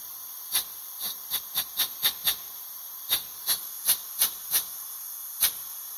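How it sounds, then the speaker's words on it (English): Short, sharp hissing bursts of hydraulic fluid spit from the tank connection of a pilot-operated pressure reducing valve in a remote hydraulic control setup, about a dozen separate shots at an uneven rhythm over a faint steady hiss. "that's when you hear a shot coming out the tank connection"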